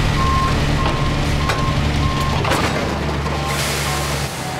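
A heavy truck reverses while being rehooked to a house load, its backup alarm beeping in a steady repeating rhythm over a loud, constant diesel engine rumble, with no talk.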